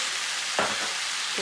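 Tomatoes drop into a sizzling wok of vegetable chow mein with bean sprouts, giving a brief soft hiss and clatter over a steady close frying sizzle.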